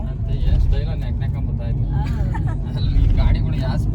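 A car drives along, its engine and road rumble a steady low drone throughout while a person talks continuously over it from inside the cabin.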